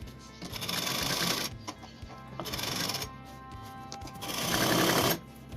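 A sewing machine runs in three close, loud bursts of rapid stitching with brief quiet gaps between them while sewing the lining of a long gown.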